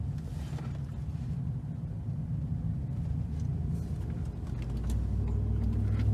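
A 2019 Chevrolet Silverado engine fitted with a K&N 63 Series Aircharger cold-air intake runs under throttle, giving a steady low rumble that thickens and grows louder near the end, heard close up from inside the truck with no talk.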